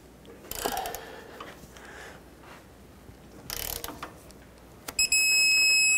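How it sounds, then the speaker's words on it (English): A torque wrench works a pitman arm nut on a 1997-2003 Ford F-150. Two short ratcheting bursts and a sharp click come up close, then a steady electronic beep sounds at the end. "And then let's torque it. The torque for this is 233 foot-pounds"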